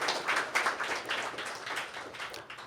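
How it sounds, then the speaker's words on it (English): A round of applause from an audience at a staff appreciation luncheon, dense but soft, scattered hand clapping carrying on evenly for a few seconds with no voices over it. "I want you all to give yourselves a round of applause"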